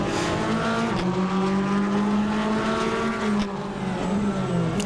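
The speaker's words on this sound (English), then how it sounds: "the C8R Corvette just sounds good, period. It's a beautiful noise screaming down the track." A high-revving Corvette C8R race car engine in a racing video game at Michigan screams continuously, pitch climbing and dropping through gear changes, loud and up close with a faint tire squeal.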